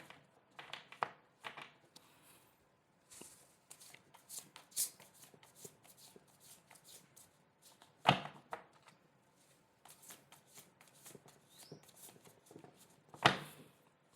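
A tarot deck is shuffled and handled at close range, with crisp riffling and brushing bursts through most of the stretch and sharp snaps as cards are pulled, one drawn from the bottom of the deck.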